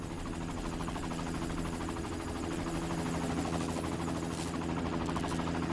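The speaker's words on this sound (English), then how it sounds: "I don't know if I really want to get on that helicopter." A helicopter in a horror-adventure video game drones steadily with a low, buzzing rotor hum that stays constant and fairly loud throughout, with no talking over it.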